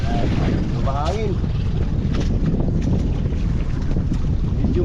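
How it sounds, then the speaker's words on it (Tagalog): Wind gusting at a fishing spot, buffeting the microphone with a continuous low roar while a voice speaks briefly over it. "Medyo mahangin."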